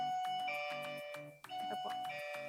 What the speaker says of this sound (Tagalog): Halimbawa, mag-doorbell ako, ate.